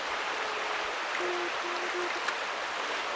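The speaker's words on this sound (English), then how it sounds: "Got a nice little view of the creek coming by here." Creek water flowing past an outdoor campsite where steaks are frying over a Swedish fire torch; a soft, steady broadband rush runs throughout at moderate distance, with a faint tonal hum and a small click near the end.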